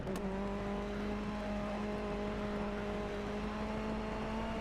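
Damaged rally car engine in DiRT Rally 2.0 holding a strained, steady tone that barely rises in pitch, a constant hum over rough road noise with no clear acceleration.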